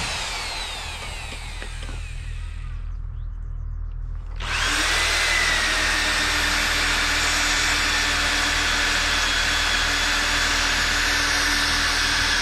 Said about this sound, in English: So I've got that row drilled out.